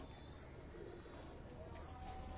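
Pigeons, including red-eyed birds, coo softly on a rooftop loft in Lahore, a faint, steady low murmur blended with quiet background noise throughout.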